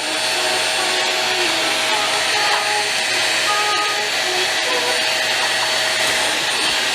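A Hoover vacuum cleaner runs close by with a steady, loud motor whine and broadband rush that holds unbroken for the whole stretch, with no voices over it.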